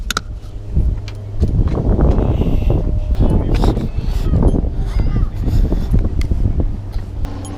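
Strong gusting wind buffets the microphone with a loud, continuous rumble during bay fishing, with a few faint clinks of gear and a brief voice among the noise.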